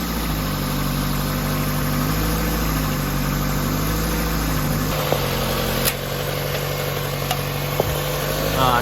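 Car engine idling steadily during an oil change, a loud continuous low rumble with an even hum, a few faint clanks and clicks near the end.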